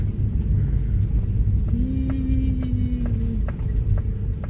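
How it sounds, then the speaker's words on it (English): Cars rumble steadily past a very sharp roadside bend, a continuous low engine drone with occasional bumps and a brief rising tone, fairly close, with no talk. "The cars are belting and jolting."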